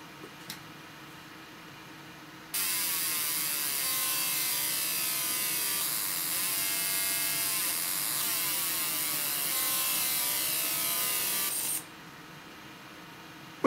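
A fiber laser marks stainless steel with a black mark, giving a steady high, hissing buzz that runs for about nine seconds over a quiet hum before it cuts off sharply.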